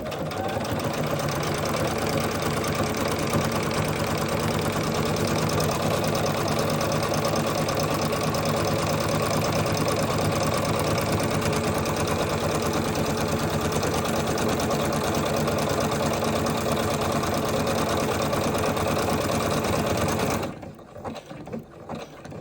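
Brother SH40 sewing machine stitching an automatic buttonhole on its own, a loud, steady, rapid mechanical whir sustained for about twenty seconds before cutting off.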